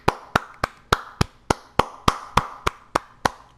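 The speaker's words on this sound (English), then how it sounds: "Everyone give him a round of applause" Crisp, evenly spaced single hand claps, about a dozen in a slow steady rhythm, close and clear, in honor of a Pro Bowl player retiring after 11 years.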